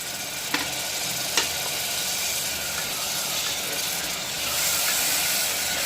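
Tomato paste sautéing in a pan with ginger-garlic paste for tomato biryani, a steady, close hissing sizzle with a couple of sharp utensil clicks early on, and no voices.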